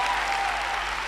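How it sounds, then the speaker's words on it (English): Dense, continuous clapping from an audience at an early childhood professional development event, loud and even across the short burst. "Clap, man, clap, yes!"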